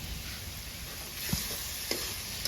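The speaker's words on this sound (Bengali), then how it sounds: "একটু নাড়াচাড়া করেই শুটকি মাছটা দিয়ে দিচ্ছি" Onions, chillies and dried surma fish fry quietly in a pan while being stirred, giving a soft, steady sizzle with a few light clinks of the spoon against the pan, faint and with no talking.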